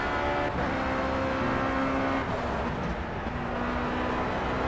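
A race car engine drones steadily at high revs, pitch shifting slightly as it accelerates and eases off, loud and continuous.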